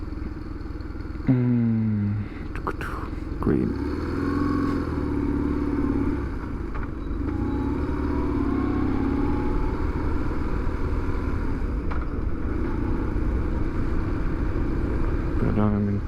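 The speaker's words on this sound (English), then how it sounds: "if the motorcycle starts" A motorcycle starting up and pulling away, loud mechanical clatter of the starter followed by a steady engine drone while riding; someone speaks a word near the start.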